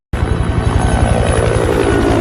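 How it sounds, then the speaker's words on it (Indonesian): A helicopter flying in the action film Six Underground gives a loud, close rotor chop, beating in a fast steady rhythm that starts abruptly and holds for about two seconds with no speech. "Sebuah helikopter terbang mengarah kepada Rovach."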